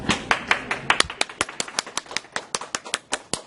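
Applause from a small group after a classroom drama scene, heard as a run of sharp, distinct claps that come at a steady rhythm and thin out toward the end, fairly close and clear.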